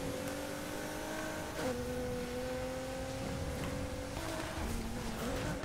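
A 1,000-horsepower Nissan GT-R race car in the Need for Speed Heat video game drones at steady high revs, with its engine pitch dropping and climbing at gear shifts as it runs flat out, fairly quiet and with no talk.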